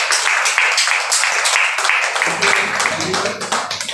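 Applause at an academic faculty development programme on 3D printing, brisk clapping from a modest audience with a voice talking over it in the second half.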